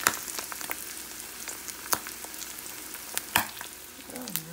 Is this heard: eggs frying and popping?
yes